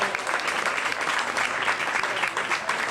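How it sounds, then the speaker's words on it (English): An audience gives a round of applause for Jon Laskin: dense, steady clapping from many hands that holds at an even level throughout, with no voice rising above it. "Let's have a nice round of applause for Jon."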